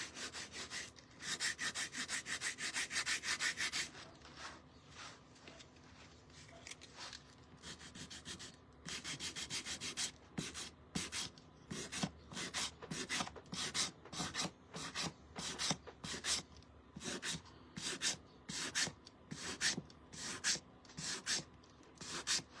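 Sanding and chipping away paint on a wooden piece, heard as close rasping scrapes. The strokes are first long and smooth, then become a quick, regular series of short horizontal rubs.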